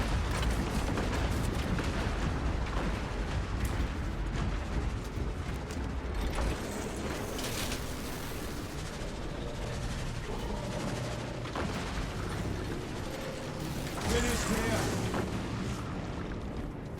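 Cannon fire during a Space Marine game battle against Tyranid swarms: dense, continuous booming and blasting with repeated heavy impacts and mechanical clatter, loud throughout, with a voice talking over parts of the battle.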